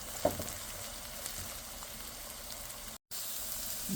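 Egg being broken up and fried in a pan alongside onion and green chilli, a soft steady sizzle close by with light stirring scrapes, one brief cut in the middle.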